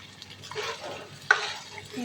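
Tadka tempering sizzles in a kadai for homemade saag, a close, short hissing spatter that swells and ends on a sharp clack.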